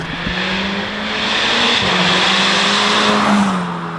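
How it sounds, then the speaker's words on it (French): Loud exhaust drone of a tuned Volkswagen Golf 6R, a sustained deep engine tone that rises and holds as it accelerates, close and dominant throughout. "le bruit de l'échappement, les amis, je suis choqué, mais il est vraiment hyper violent"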